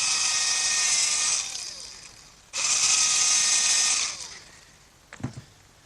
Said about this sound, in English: But first I'm going to have to drill a pilot hole for the screws